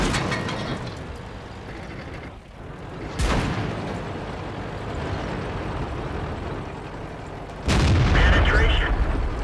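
Tank guns firing in World of Tanks, with a Tiger II and IS-3 tanks on the map: two heavy booming shots several seconds apart over a continuous rumbling game background, with a voice speaking in between.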